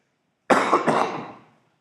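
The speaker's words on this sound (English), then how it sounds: "I've had this horrible cough and it's been really bad" One sharp, harsh cough with a rough, breathy tail, loud and close in a quiet classroom, fading out after about a second.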